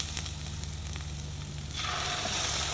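Onions and tomato paste fry in oil for Egyptian moussaka, a soft sizzle over a low hum. The crackle swells abruptly louder and brighter partway through and holds steady to the end.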